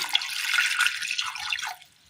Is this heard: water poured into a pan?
yes